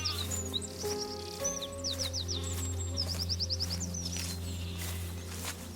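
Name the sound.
birds chirping with sheep and wind in the countryside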